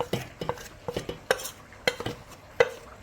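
Squid is mixed in a bowl with a paste of Kashmiri chilli, asafoetida and ginger-garlic, giving a series of close, wet squelching stirs and sharp spoon clinks against the bowl, rhythmic and alone with no voices.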